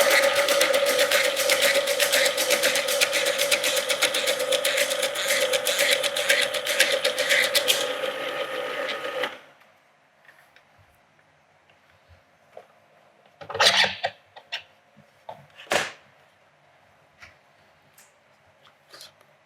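A Robot Coupe food processor dicing carrots whirs loudly with a fast mechanical chatter for about nine seconds, then stops, followed by a few scattered clunks and knocks.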